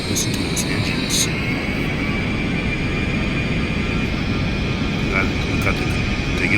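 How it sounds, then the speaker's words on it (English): Jet engines of an Airbus A321 roar steadily through the cabin during takeoff, a loud, continuous broadband rush with a faint whine on top and brief clicks near the start and end. "Listen to those engines."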